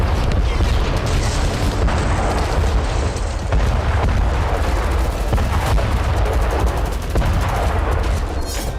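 Missile strikes and blasts from Hezbollah rockets hitting the Galilee region of northern Israel: loud, dense, continuous booming and rumbling with crackling gunfire-like impacts and no clear gaps.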